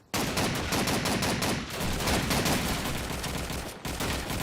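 Sustained automatic gunfire in the game Duke Nukem Forever, a dense, loud, unbroken burst of rapid shots lasting about four seconds, with a brief break near the end.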